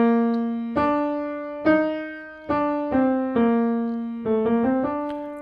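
A clavichord plays the Art of Fugue theme in inversion, a slow line of distinct plucked-struck notes with quick decay, soft and intimate, alone without talk.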